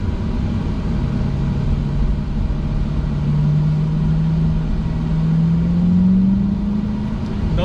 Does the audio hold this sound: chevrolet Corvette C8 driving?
yes